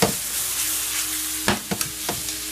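Shrimp hit a hot pan of shallots and sizzle steadily as they fry, with a few sharp clacks of stirring and shifting breaking through the constant hiss.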